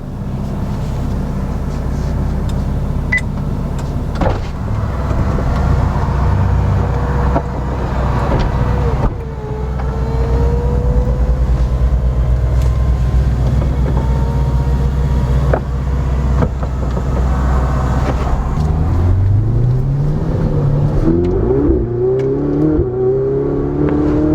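A 2018 Ferrari 488 Spider driving with the roof down around Cape Town, its loud, steady engine drone with wind roar and rising and falling revs, climbing in pitch as it accelerates near the end.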